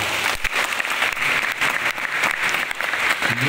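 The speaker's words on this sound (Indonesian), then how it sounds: "Tepuk tangan dulu." A school audience breaks into applause during a religious lecture, a brief burst of many hands clapping at close range that holds steady for a few seconds.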